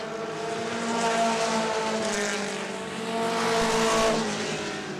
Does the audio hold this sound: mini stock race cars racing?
yes